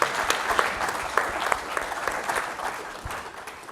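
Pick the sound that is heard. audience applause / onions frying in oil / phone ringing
audience applause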